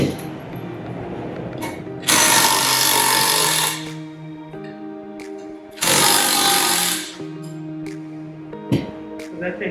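A power tool whirs and rattles in two long loud bursts, removing 1/4 inch Allen bolts from a metal bolted air-operated double-diaphragm pump, with a steady mechanical hum and clicks between the bursts.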